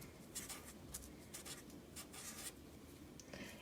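Pen or marker strokes writing the word acorn, a series of short scratchy bursts in an uneven rhythm, close and fairly quiet with no talking.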